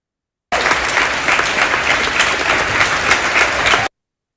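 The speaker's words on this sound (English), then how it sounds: "let us express our heartfelt gratitude with a big round of virtual applause" A round of virtual applause closing a lecture in an online faculty development session: steady, dense clapping with no speech, holding at an even level for a few seconds before stopping abruptly.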